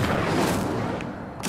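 The Incendio fire spell is cast in Hogwarts Legacy, a dense, rumbling whoosh of flame that roars steadily and then ends in a short, sharper burst.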